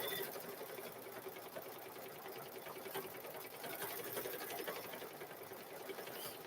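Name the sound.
embroidery machine stitching a cow quilt row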